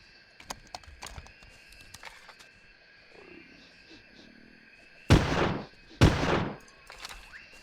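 Two sharp, loud gunshots ring out close together in Carnivores Legacy on a quiet mountain hunt, following scattered faint clicks and ambient noise.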